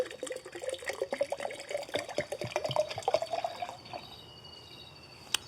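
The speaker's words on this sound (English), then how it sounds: "take your apple cider vinegar, completely cover those herbs and fill up the jar with the apple cider vinegar" Apple cider vinegar poured over herbs into a jar for fire cider gives a steady, close trickle and splash that rises in pitch as the jar fills, then stops with a single sharp clink near the end.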